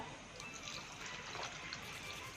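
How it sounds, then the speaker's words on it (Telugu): Basmati rice and barley being rinsed in water, a faint, steady watery swishing and sloshing that lasts throughout without pause. "బాస్మతి రైస్ బార్లీ ఒక టూ స్పూన్స్ బార్లీ వీటిని చక్కగా నీట్గా కడిగేసుకుందామండి"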